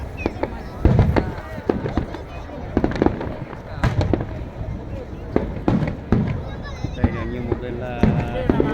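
A fireworks display in Tokyo sends out repeated sharp bangs and crackling bursts over a steady crowd murmur, with pops arriving irregularly throughout.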